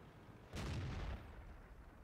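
A single deep cannon blast from a T-30 tank in World of Tanks, a muffled boom that swells suddenly and then tails off into a low rumbling backdrop.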